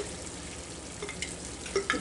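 Hamburger, tomatoes and onions frying together in a pan, a quiet, even sizzle with a few soft pops and spatters toward the end, heard close with no talking.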